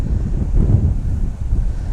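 Strong wind buffets the microphone at a fishery in a continuous low, gusty roar.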